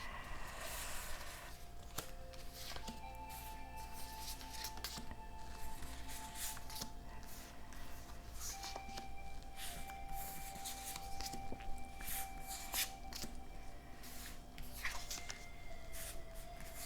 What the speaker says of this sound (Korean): 자, 지금부터 카드를 뽑겠습니다.